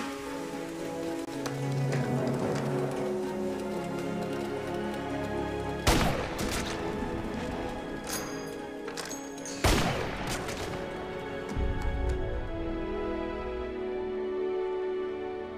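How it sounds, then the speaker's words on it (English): Gunfire in a crime drama scene, with two sharp, loud shots standing out about four seconds apart over a steady wash of background noise and a few fainter cracks. "So, when the lights flash green, it'll be the correct speed, and Booth can fire"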